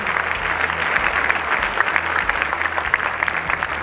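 An audience applauds steadily as a poet is welcomed on stage at a college event, a dense, sustained wash of clapping from a crowd over a low hum.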